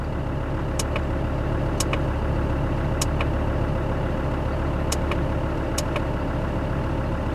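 A Land Rover engine idles at around 850 RPM with a steady, even rumble, broken by sharp clicks that come in pairs.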